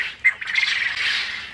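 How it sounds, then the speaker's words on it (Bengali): A brief, shrill quail call rises and holds for about a second, loud and near, with no other sounds around it. "ছেলে পাখিগুলো যখন ডাকাডাকি করবে তখন মহিলা পাখিগুলো সাড়া দিবে।"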